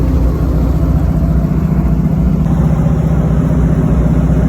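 Big block V8 car engine cruising in third gear at about 25 to 30 mph and 2,000 RPM, a steady low rumble that holds constant throughout with no talking.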